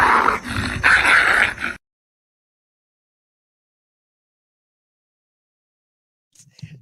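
A small, fearless bulldog lets out a short burst of growling and yipping close by, then falls silent, with a faint whimper-like sound near the end.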